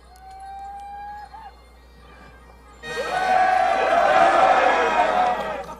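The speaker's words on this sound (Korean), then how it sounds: "고향의 노래를 불렀던 영국군은 지금 환호하죠." British soldiers in a film scene raise a loud crowd cheer that swells and holds for several seconds, following a quieter stretch with a lone voice and faint tones.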